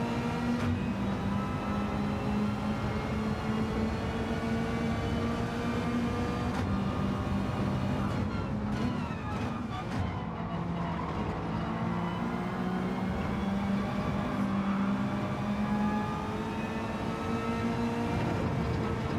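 A Lamborghini Huracan Gr.4 race car in Gran Turismo 7 drones steadily as it pulls away slowly off the line, its engine note holding a continuous, fairly loud hum throughout.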